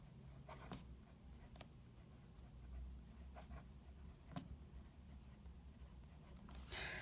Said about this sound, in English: So, quick and easy writing sample.